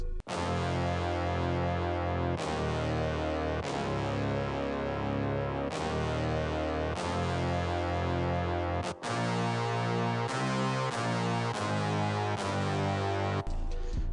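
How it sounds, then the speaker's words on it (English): A brass layer in a futuristic trap beat, playing sustained chords along the low notes of string parts that hit on every beat, dense and continuous for about fourteen seconds with no voices. "I added in this brass"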